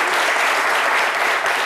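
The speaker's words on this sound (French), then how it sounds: "avec des applaudissements, c'est bien meilleur" Audience at a French midday television programme bursts into applause, a brief, loud, even wash of many hands clapping.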